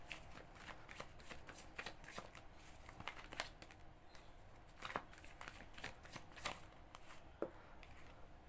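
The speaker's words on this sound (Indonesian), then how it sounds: "Kartu Two of Cup nih" Tarot cards being shuffled by hand in a steady run of close, crisp riffles and flicks, with no talking over them.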